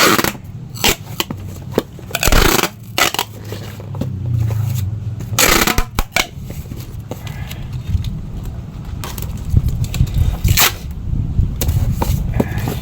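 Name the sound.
packing tape wrapped around cardboard box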